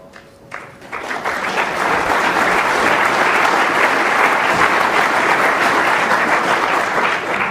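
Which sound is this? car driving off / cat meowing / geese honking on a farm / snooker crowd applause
snooker crowd applause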